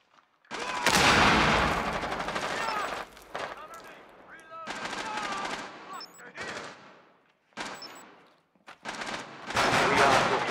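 Loud bursts of automatic weapon fire from the Rainbow Six Siege video game, several sustained volleys separated by short silent gaps, with game voice callouts mixed in.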